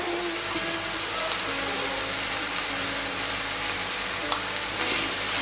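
Ground spices with salt, turmeric and red chilli powder sauté in oil in a pan for veg matar keema, giving a steady, broadband sizzle that runs unbroken and fairly loud, with a faint scrape near the end.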